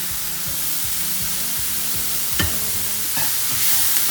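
A seasoning mix of black pepper, chili flakes and salt sautés in a pan with a close, steady sizzle, regular soft scraping taps, and a couple of sharper utensil knocks.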